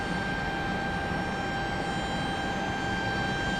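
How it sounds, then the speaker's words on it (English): Steady broadband roar of a Boeing 737 airliner arriving at Raleigh-Durham airport, a continuous distant jet drone with a thin whine on top, holding even throughout. "Will the rainbow last long enough for us to catch the 737 arriving in front of the rainbow?"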